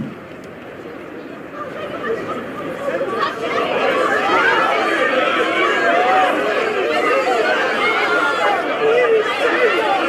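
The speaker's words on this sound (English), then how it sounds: "Talk about a crowd." Dense crowd chatter from a large city gathering in Final Fantasy XV, a continuous babble of many voices that swells after the opening seconds and stays loud and steady.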